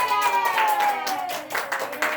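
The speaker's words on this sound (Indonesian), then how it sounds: "kasih tepuk tangan" Classroom students clapping hands for a correct answer, a loose patter of claps under a sustained, slightly falling voice-like tone, growing more distinct toward the end.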